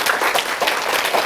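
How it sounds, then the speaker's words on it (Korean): An audience at a Christian humanities lecture gives a round of applause for the elder who delivered it, dense close clapping sustained evenly throughout. "우리 오동희 장로님께 큰 박수 한번 부탁드립니다."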